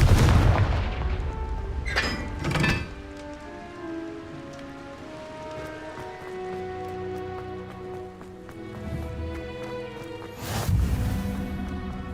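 Confringo blasting spell explosions in Hogwarts Legacy, heavy booming blasts near the start and again near the end, with sparkling crackle, rain-like debris and a musical game score ringing between them.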